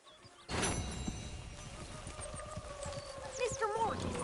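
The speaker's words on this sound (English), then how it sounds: "Mr. Morgan, get that horse out of here." Horse hooves clip-clop at a steady trot in Red Dead Redemption 2, close and clear over game ambience, with a whinny near the end and a voice speaking over it.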